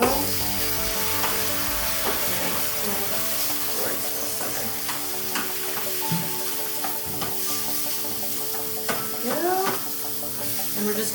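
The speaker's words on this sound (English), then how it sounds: "And we're just going to scramble them like they're regular eggs." Egg whites being stirred and scrambled in a hot pan, a steady sizzle of frying under repeated scraping and stirring strokes, close and continuous with no talking.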